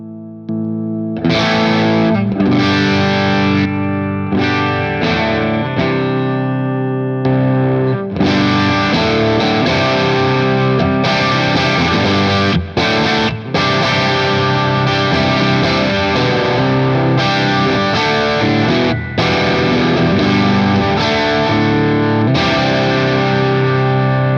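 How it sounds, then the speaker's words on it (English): An electric guitar runs through a boost pedal that pushes the amp's front end into high-gain overdrive, playing loud, saturated chords and riffs with sustained notes and brief pauses, with no voice over it. "you can also use the boost to push the front end of the amp into high gain overdrive, and then it would sound like this"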